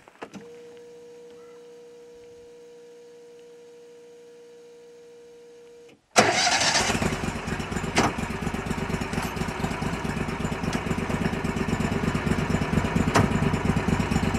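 A steady electric whine gives way to the engine of an Argo Conquest 8x8 amphibious vehicle idling with its drive engaged, a loud, even rumble that continues unbroken.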